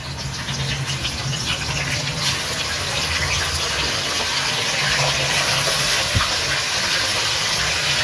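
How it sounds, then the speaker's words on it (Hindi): Mutton pieces sizzling in hot oil with whole cumin in a pot, a steady, loud hiss running continuously throughout with no talk. "तो हमें अच्छे से फ्राई करना है ताकि स्मेल ना आए।"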